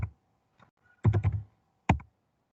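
Computer keyboard keys are struck to enter a command on a tracker's console: one tap, a quick cluster of four or five clicks, then a final sharp press, all close and crisp against silence.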